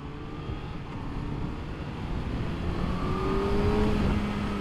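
Honda CBR1000RR Fireblade SP2 superbike engine droning steadily as the rider pulls away and shifts gears, the rising and falling tone close and continuous with wind rush.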